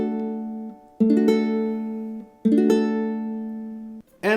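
Strummed ukulele chords from a song, three full bright strums ringing out clearly and decaying between each, close and alone with no talking.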